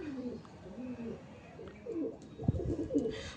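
Madrasi pigeons coo on a sunny rooftop: soft, rolling coos come in short phrases from nearby birds, quiet overall with a few louder bursts toward the end.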